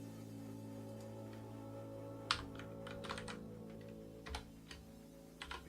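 Computer keyboard keys clicking in a live coding session while a git filter-branch command is entered: several quick bursts of close, crisp keystrokes over a steady low hum, with short pauses between them.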